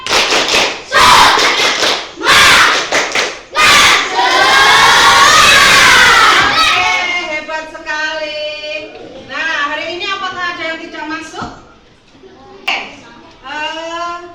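Schoolchildren in a classroom chant and shout together in a loud spirit cheer, with sharp bursts of rhythmic clapping at the start, then a rising group shout and excited mixed voices.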